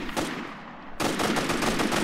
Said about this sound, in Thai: โอ้โหเสียงปืนนี่กระหน่ำมาก